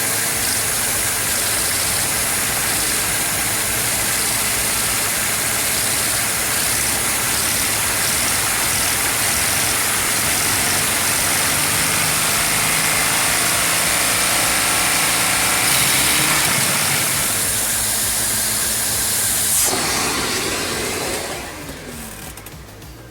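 A small, high-pitched Lego vacuum engine, coupled to a four-speed transmission, idles in fourth gear, whirring steadily at a constant pitch for a long stretch, then winds down and fades near the end.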